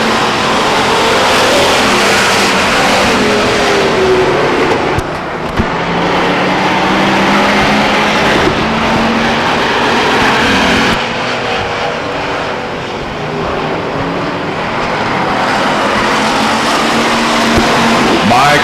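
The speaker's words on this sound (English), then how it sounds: "Mike Robinson rockets out for the lead" Race cars roar around an oval speedway in a short-track stock car race, a loud, dense, continuous engine drone that swells and shifts as the pack passes, with no talk.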